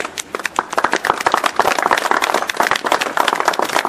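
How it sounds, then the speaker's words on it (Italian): Crowd applause at an April 25 Liberation Day memorial ceremony in Via della Cava Aurelia, Rome: dense, continuous clapping from many hands, loud and close, sustained throughout. "direi un applauso per ognuno di questi nomi"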